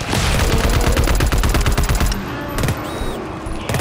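Rapid automatic turret gunfire in the co-op shooter GTFO, loud and dense bursts of shots firing near, continuous for most of the stretch with a few sharper metallic hits near the end.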